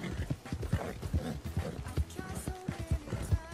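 Horse hooves gallop in a steady, driving clip-clop rhythm in Red Dead Redemption 2, loud and close throughout, with the beat continuing unbroken.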